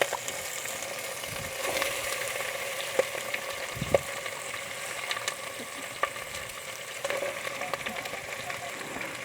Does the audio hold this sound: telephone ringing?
no